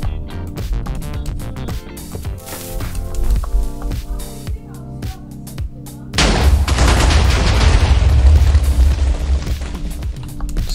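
Minecraft TNT blasts against bedrock: a few seconds of layered game music and pops, then a heavy rumbling explosion roar that swells and sustains loudly to the end, close and dense.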